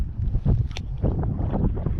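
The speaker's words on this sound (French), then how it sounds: "Et là ça commence à monter un peu le vent là." Wind gusts against the microphone aboard a sailboat at sea off Leucate, a low rumbling buffet with water and boat noise that swells and eases over two seconds.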